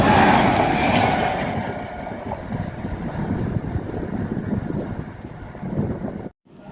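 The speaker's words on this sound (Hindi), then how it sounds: "शायद ये ट्रेन मालगाड़ी ट्रेन आ रही है" A freight train rumbles past at a small railway station in Chittorgarh district, a broad, steady low roar with wind buffeting the microphone, loudest at the start and easing slightly before cutting off abruptly near the end.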